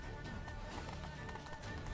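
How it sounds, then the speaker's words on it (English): A horse's hooves clip-clop as it strolls across a street in The Witcher 3, a busy mix of rapid hoof hits under dense game ambience and background noise throughout. "It's just a fucking horse randomly just strolling over the street."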